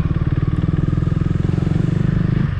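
Motorcycle engine idling and rumbling on a grassy jungle trail, a loud close-up chugging pulse with a steady rapid rhythm throughout, no one talking.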